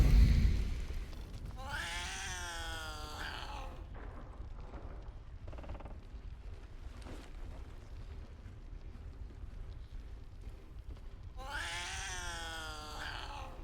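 A cat in the video game Adventures of Zeyrah meows in two clear, drawn-out bursts at the start and end, with a steady low purr-like rumble running underneath throughout.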